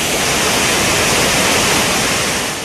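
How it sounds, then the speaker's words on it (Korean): An Icelandic waterfall pours down in a loud, steady, dense roar of falling water, close and unbroken throughout with no voices. "폭포라기보다는 그냥 누군가 양동이 같은 걸로 막 물을 갖다 붓는 그런 느낌"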